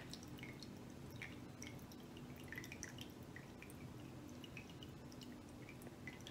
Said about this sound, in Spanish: sigue derramando agua. Lo cual quiere decir que la esponja ya está llena a toda su capacidad